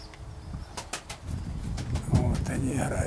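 Pigeons coo in a loft in Perm, soft low cooing and occasional wing flaps under a voice talking nearby.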